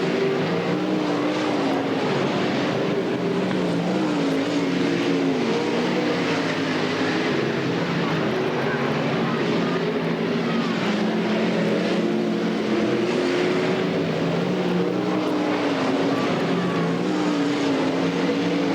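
Sprint cars race around a dirt speedway on the final lap, engines droning continuously at a steady distance, a thick wavering roar that carries unbroken through the clip.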